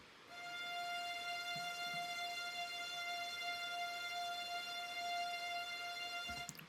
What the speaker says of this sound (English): I also added just a violin on the root note just to bring tension to the track